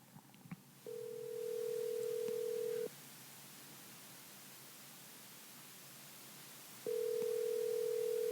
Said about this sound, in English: So let's get him on the phone right now.